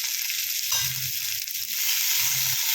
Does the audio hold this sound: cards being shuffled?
no